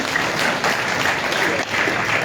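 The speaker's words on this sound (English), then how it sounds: "You can clap again." An audience applauding at an official census results release, a dense steady clatter of many hands clapping, loud and sustained throughout with no gaps.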